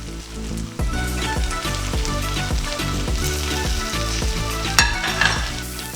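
Kung Pao tofu sizzles steadily in a pan after a soy sauce mixture goes in, a continuous frying hiss with faint stirring clinks over background music.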